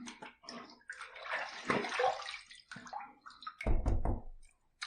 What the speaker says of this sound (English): Cold water rinse.